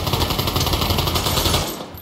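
Rapid automatic gunfire in a virtual reality prison video game, a loud continuous burst of shots that cuts off near the end.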